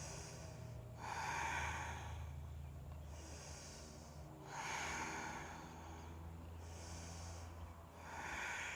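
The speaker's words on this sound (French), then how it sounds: "Respirez." Slow, audible breathing during an evening yoga session in India, with three long airy inhalations or exhalations spaced a few seconds apart over a quiet low background hum.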